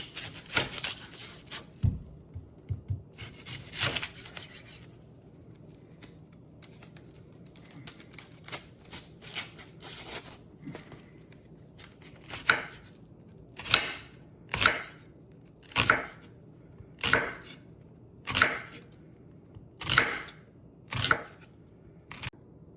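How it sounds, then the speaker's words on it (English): A knife julienning an onion on a cutting board for ceviche aguachile, quick soft taps at first, then a steady series of sharper, evenly spaced chops, close and with no voices. "Now I'm going to julienne my onion."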